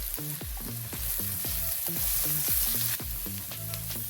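Brinjal curry frying in a pan as chili and turmeric powder are stirred in, a steady loud sizzle with rhythmic scraping stirs throughout, close up and without talk.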